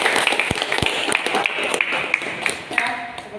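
A classroom of automotive engineering students clapping together, brisk close applause with distinct individual claps, and voices murmuring underneath.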